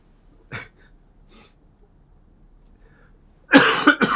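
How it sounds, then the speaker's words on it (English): A man's sympathetic coughs during an office-hours webcast: one short cough, a faint second, then a loud close burst of two or three coughs near the end, with near silence between. "that was a sympathy cough"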